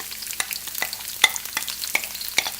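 A finely sliced medium brown onion sizzles in hot cooking oil over medium-high heat, with a busy crackle and sharp clicks of a utensil stirring the pan.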